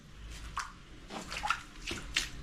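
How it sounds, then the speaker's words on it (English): Water from a ruptured outdoor faucet pipe flooding a room, heard as splashing, dripping and sloshing in uneven bursts over a low background rumble, with no talking. "Yeah, all that water's coming down."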